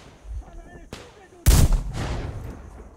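A sniper rifle fires once in the video game Metro Exodus, a sharp, loud crack with a lingering echo, after a quieter stretch with a fainter earlier report.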